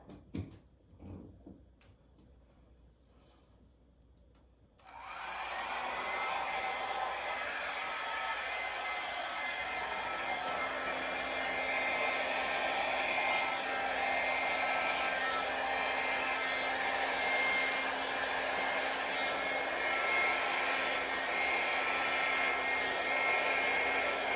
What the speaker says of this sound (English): Let me get my blow dryer and we'll work this out.